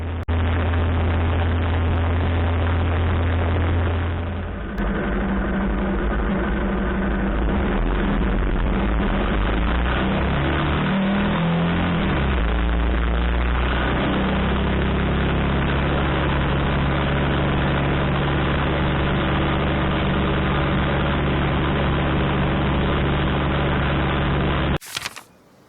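A home-built motorcycle engine and self-made gearbox run steadily with a loud, dense droning hum and shifting low tones throughout, cutting off abruptly near the end.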